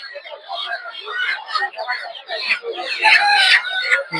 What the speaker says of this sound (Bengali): এই জায়গায় প্রচুর পরিমাণে দেশি মুরগি